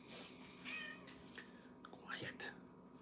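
A house cat gives a couple of soft, brief meows at low volume, mixed with quiet whispered speech in a hushed room.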